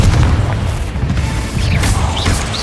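A Confringo fire spell explodes in the Hogwarts Legacy video game, a loud, dense booming blast with rumbling low end and crackling debris that fills the whole moment.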